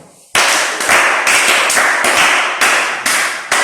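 A close audience claps together in loud, sustained applause, with the clapping surging in several repeated waves.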